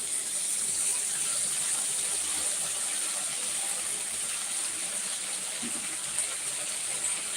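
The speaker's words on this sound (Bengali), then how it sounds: "এরপর জল দিয়ে দিলাম" Water is poured into a ground black and white mustard and poppy seed paste gravy for a spicy bhola fish curry, giving a steady, continuous gushing pour close by.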